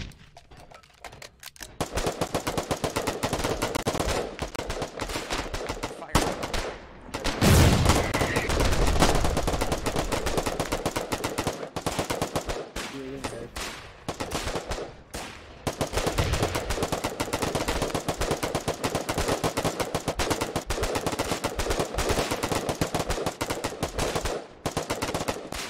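Rapid automatic gunfire from an online multiplayer video game rattles in dense, loud bursts with short pauses, filling the whole stretch.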